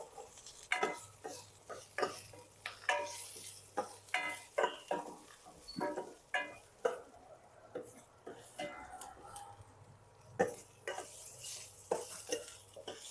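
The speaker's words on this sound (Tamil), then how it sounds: "நறுக்கி வச்ச வெங்காயத்தை போட்டு லைட்டாக கிண்டுறோம்." Chopped onions and green chillies stirred in a pan with ghee and oil, giving repeated scraping clinks of a spoon against metal over a soft sizzle, steady and close.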